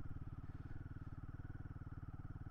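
Royal Enfield Himalayan 450 motorcycle (2024) ridden slowly, its engine thumping in a low, even, rapid pulse, faint and steady throughout with no talk.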